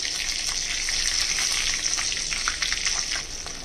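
Steady, busy sizzle of whole green chillies and panch phoron frying in hot oil, close and continuous with crackling pops throughout, no voices.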